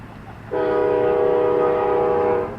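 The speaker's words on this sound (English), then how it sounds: "I haven't had the train interrupt me in a long time." A passing freight train near an outdoor ceremony at Culver sounds its horn, a loud, sustained, steady blast that cuts in abruptly over low rumbling and holds for about two seconds before easing off.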